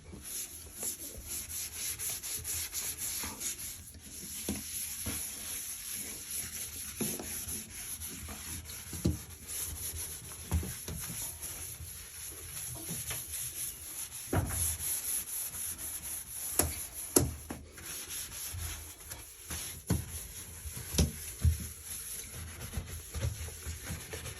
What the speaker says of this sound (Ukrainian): І не чекаючи, зразу працюємо мочалочкою.